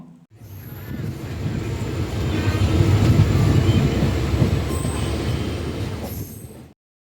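A passenger train rumbles along the tracks past Ponmalai railway station near Trichy, building to a loud, steady roar of wheels and carriages before cutting off abruptly, with no voices.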